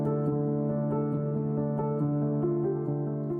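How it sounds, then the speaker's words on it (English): Close-miked muted piano plays sustained, steady notes with soft felt-covered hammer attacks, each strike adding a gentle percussive edge over warm, even tones throughout. "the sound of the hammer hitting the felt in these like high-end transients that you don't hear in a piano"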